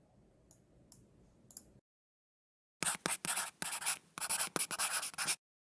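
Several quick mouse clicks on a web form button, a short cluster of sharp clicks separated by brief pauses, close and fairly loud, with a faint scratchy rustle earlier and no talking.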